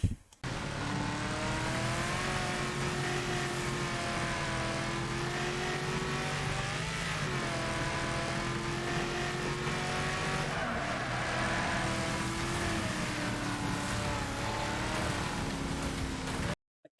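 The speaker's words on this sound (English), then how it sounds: "Watch now how I shift by changing gear and then hitting the clutch." In the Wreckfest racing game, a damaged car engine drones steadily with rising and falling revs as gears are shifted, continuous and loud throughout with no talk.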